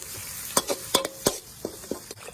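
Stir-frying in a pan: sharp spatula scrapes and clanks against the metal come at irregular intervals over a soft background sizzle, close and fairly loud, with no talking.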